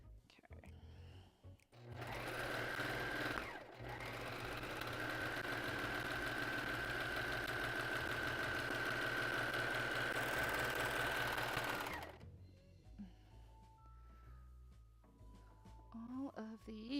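A sewing machine stitches a pirate-themed Umbreon plush commission in one long continuous run of steady mechanical whirring, close and fairly loud, with brief pauses and softer handling noise before and after.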